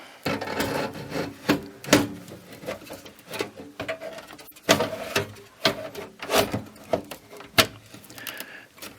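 A power supply slides into an ASUS M32CD desktop case, giving close scraping, rubbing and knocking sounds. Each sound comes as a short irregular burst of handling noise, and nobody talks.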